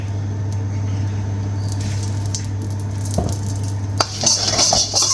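Oil in a pan on the stove while preparing chicken and vegetable stir fry noodles, a low steady hum with faint patter, then a brighter sizzle rising near the end, close and fairly quiet.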